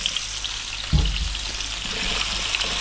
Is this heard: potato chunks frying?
yes